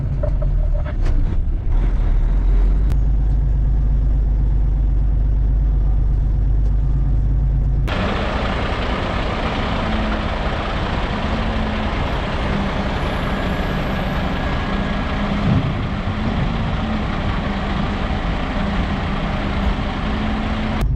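A loaded dump truck carrying sand pulls out of a gravel pit. An air-brake hiss and clatter come first, then a loud, continuous engine roar and road rumble for the rest of the clip.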